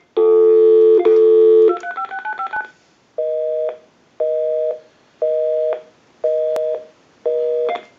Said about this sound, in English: We'll go ahead and give you some dial tone, and we'll call my number, and it'll be busy.